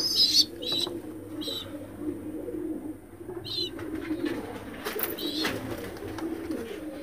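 Pulsar breed pigeons coo in low, throaty rolling phrases, close by, overlaid with a few sharp chirps and faint wing or shuffling noises.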